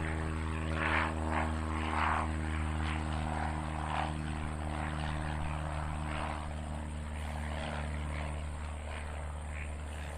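Propeller airplane taxiing at Nashville International Airport, a steady droning engine hum with strong low tonal layers, continuous and moderately near throughout, no talking.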